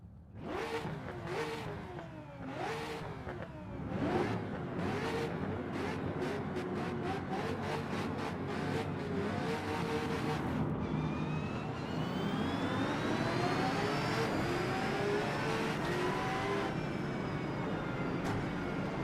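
A McLaren BMW race car engine in a racing video game revs hard through repeated rising gear-change sweeps, then settles into a sustained high-pitched howl at speed, loud and continuous with no talk.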